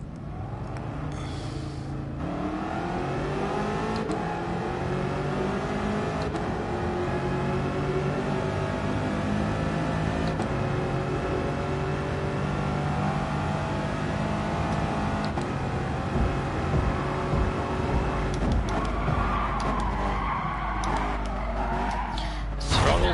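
In a PS4 racing game, a car engine whines and revs continuously while the tires squeal and skid through the corners. The sound stays steady and loud for more than twenty seconds, with gear-shift pitch changes and no talking.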